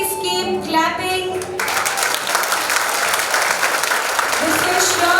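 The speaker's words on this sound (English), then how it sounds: "Parents, can you please keep clapping?" Parents at a primary school annual function clap together in a dense, steady wash of applause, with a few voices and children's chatter mixed in at the start.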